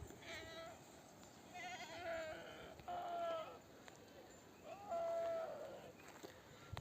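Grazing sheep bleat several times at a middle distance on a high mountain pasture where herders camp, the wavering calls spaced out over a soft outdoor background.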